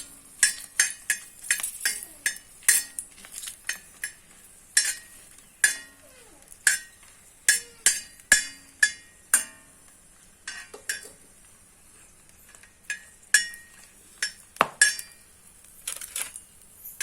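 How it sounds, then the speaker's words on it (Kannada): Dried chillies and spices are dry-roasted over a medium flame in a pan for a Mangalorean crab and spinach curry, with sharp spoon clinks and scrapes in irregular bursts, close by and alone. "ಮೊದಲದಾಗಿ ಮೆಣಸು ಹುರಿಯುವಲ್ಲಿ ಆದಷ್ಟು ಮೀಡಿಯಂ ಫ್ಲೇಮಲ್ಲಿ ಹುರಿಯುವಂಥದ್ದು"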